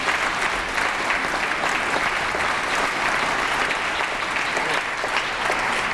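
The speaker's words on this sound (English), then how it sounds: "Anyway, applauding." An audience applauds a political speech on healthcare coverage, sustained loud clapping from a large crowd, continuous and even throughout, with no talking.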